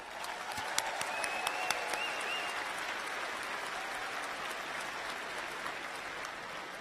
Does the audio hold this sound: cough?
no